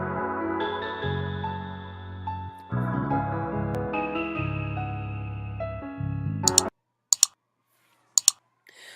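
Computer mouse clicks while auditioning music loops: after a stretch of playing loop music, a few sharp, isolated clicks sound in near silence.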